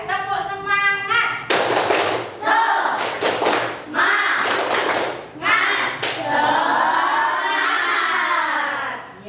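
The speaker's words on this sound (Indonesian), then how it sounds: "ayo kita mulai. Tepuk semangat." A classroom of children performs the rhythmic tepuk semangat cheer, with bursts of group clapping and chanting voices in a patterned beat, led by a teacher's voice.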